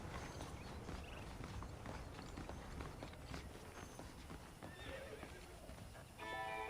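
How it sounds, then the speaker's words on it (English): Saddled horses in the video game Red Dead Redemption whinny and clop their hooves, a quiet, steady run of hoof and animal sounds with game ambience and no speech. "The horses are saddled up over here."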